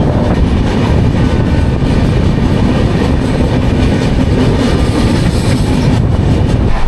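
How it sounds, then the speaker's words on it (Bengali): Kantabanji Ispat Express rolling out of Jhargram station, a loud, steady rumble of wheels and carriages heard continuously from on board, with a dense low roar throughout. "ট্রেন ছেড়ে দিল ঝাড়গ্রাম স্টেশন"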